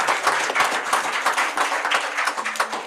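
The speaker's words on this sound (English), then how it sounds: "If we can give them a round of applause, please." A church congregation claps in a lively, rhythmic burst, many hands beating fast and close together at a moderate level for a few seconds.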